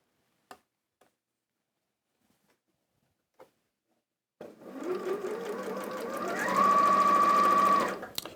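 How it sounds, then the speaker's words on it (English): Sewing machine stitching a quarter-inch seam on a quilt block, starting after a few faint clicks and running steadily for several seconds, rising to a faster, higher whine before stopping. "you're stitching a 1/4 inch seam all the way down the side of that"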